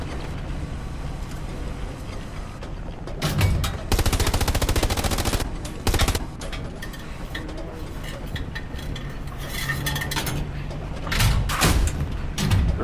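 Gunfire striking a tank in the Hell Let Loose video game at Carentan: several sharp bursts and cracks arrive in clusters, some loud and close, over a low engine rumble, with no clear talk.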